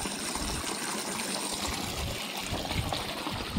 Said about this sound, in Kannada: ಅಂತರ್ಜಲ ಹೆಚ್ಚಾಗಿ ಕೊಳವೆ ಬಾವಿಯಲ್ಲಿ ನೀರು ಉಕ್ಕಿ ಹರಿಯುತ್ತಿವೆ